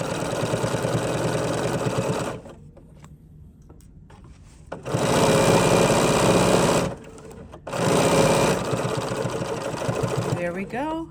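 A sewing machine stitches through fabric, catching the layer underneath, in loud buzzing bursts of rapid needle hammering. The machine stops twice for short pauses, and a voice is heard briefly at the end.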